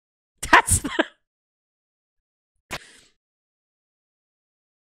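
A single person sneezes in a quiet room with one sharp, close burst, followed about two seconds later by a smaller, brief breathy sound, then silence.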